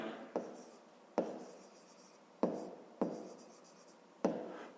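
Pen writing by hand on paper while working a math exercise, with five distinct scratchy strokes, each starting sharply and trailing off, close and quiet with no talk.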